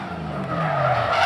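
A V8 LS-powered drift car skidding at Evergreen Speedway, a loud, rising tire screech over a deep engine growl that swells over one short continuous slide.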